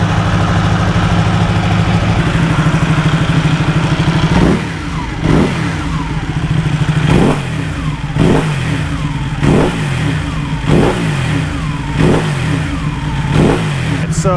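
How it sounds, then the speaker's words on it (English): A Ducati Panigale motorcycle engine runs loud and close while warming up, a steady idle broken by a series of sharp, regularly spaced throttle blips and revs that fall back each time. "now that the bike is up to temp, go ahead and shut her off."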